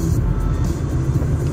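Busy street traffic in Maceió on a hot, sunny day, with cars rolling past in a loud, continuous low rumble and engine drone heard from close by inside a moving vehicle.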